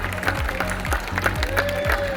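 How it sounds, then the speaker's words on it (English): An audience claps at an aquarium show featuring a trained animal, a steady patter of many hands from a crowd under faint background sound. "can we give her a round of applause for that?"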